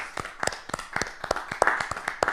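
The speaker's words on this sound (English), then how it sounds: "And I have to give them an applause" Applause for veterans: a small group claps in quick, uneven bursts, sharp distinct hand slaps at close range lasting a couple of seconds, with no voices over them.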